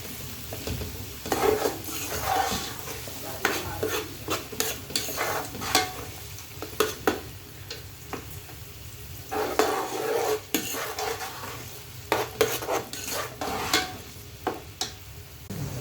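Onion sautéing for a chicken ginger dish hisses continuously under frequent scraping, clattering strokes of a spoon stirring in the pan, rhythmic and close, with no voices.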